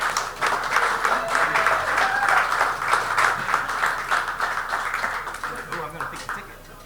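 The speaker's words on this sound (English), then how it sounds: "Let's give Anthony another round of applause" A small Rotary meeting crowd at an urban winery claps for Anthony, with dense, continuous applause lasting several seconds.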